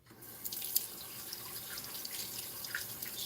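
Tap water runs steadily into a sink as pork ribs are rinsed under it, a close, continuous hiss and splash with faint drips.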